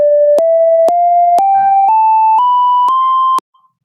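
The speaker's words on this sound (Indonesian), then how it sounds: "sekarang kita bisa mendengarkan nada dari pianonya" Synthesized piano-like notes generated by audio signal processing code, an ascending run of seven pure sustained tones, each step slightly higher and set apart by sharp clicks, loud and alone before cutting to silence.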